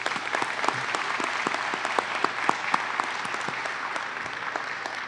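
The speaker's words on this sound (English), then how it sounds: "Let's give him a round of applause." Audience applause at a Veterans Appreciation Day event in a city venue, a continuous crowd clapping for several seconds with a few louder nearby claps and no one speaking.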